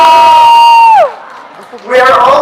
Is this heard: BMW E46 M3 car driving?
no